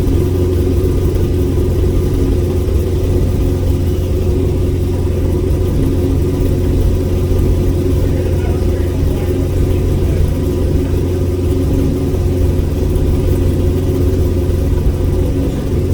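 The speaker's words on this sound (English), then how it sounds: "Once it warms up, we should be able to rev it better." NASCAR engine fitted with a boom tube exhaust on an off-road vehicle, a loud continuous droning rumble that holds steady throughout with no clear rev peaks.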